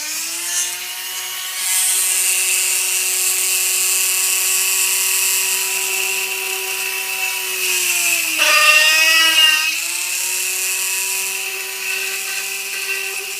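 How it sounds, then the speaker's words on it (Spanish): A power drill bores screw holes with a drill bit in recycled material for a homemade wind turbine, a steady whining hum with a brief pitch dip as the bit bites in, then settles again. "vamos a utilizar la broca que ya utilizamos antes para los demás tornillos y voy a hacer las"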